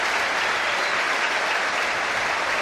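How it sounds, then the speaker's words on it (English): Dense, steady applause from a large football stadium crowd greets a substitution during a Southampton v Wrexham match, sustained throughout at a loud, even level with no talk. "Fernandez gets a terrific round of applause"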